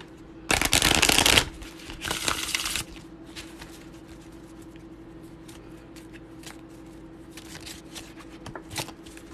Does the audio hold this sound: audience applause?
no